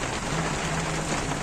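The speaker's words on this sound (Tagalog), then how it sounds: "Ayan na ang ulan, oh. Ang lakas." Heavy rain pours down in a steady, dense hiss that fills the space evenly, loud and close, with a faint low hum running through part of it and no voices.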